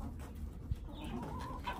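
Backyard coop chickens cluck softly and sporadically at close range, with low-level rustling and background noise between the short calls.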